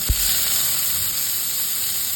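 A big chopped onion hits hot oil with dried red chillies and browned garlic, setting off a sudden loud sizzle right after a soft thump, then a steady close hiss of frying.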